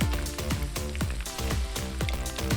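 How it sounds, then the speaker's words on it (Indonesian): Rempeyek batter sizzles in hot oil, a steady crackling fry that continues throughout with regular pulses, heard up close with no talking. "Goreng rempeyek mah yang penting minyaknya panas, adonan dituang, jangan terlalu banyak."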